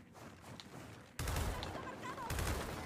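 A Hammerburst rifle in Gears of War 4 fires loud bursts, with a sudden close volley followed by a second burst, over quieter background game noise.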